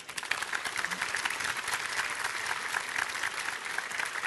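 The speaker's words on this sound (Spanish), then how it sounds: "Les pido por favor un aplauso." Audience applause at the end of a conference talk on ethical hacking of video games fills the room. The clapping is dense, steady and sustained throughout, with no one speaking over it.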